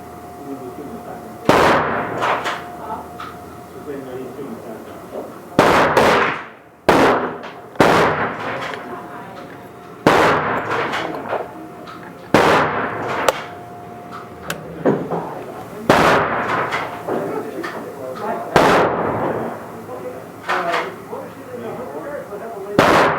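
An MGM 30/30 Encore single-shot rifle fires 200-grain cast bullets outdoors, a series of loud, sharp reports spaced a few seconds apart, each with a short echoing tail, and a person talks between shots.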